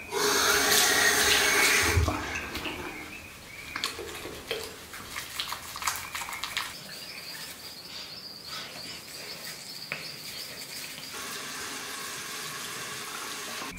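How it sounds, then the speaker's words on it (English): Tap water runs into a bathroom sink as hands are wetted during a skincare routine, a steady close hiss that is strongest at the start and then settles into a fainter, even flow. "And then I wet my hands."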